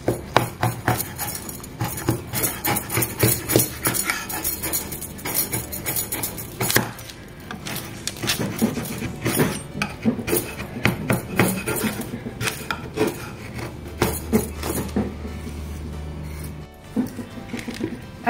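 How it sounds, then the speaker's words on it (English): A small hammer strikes a wooden board to weather and dent it, giving a series of close, irregular knocks and taps mixed with rubbing and scraping. "I even took this small hammer"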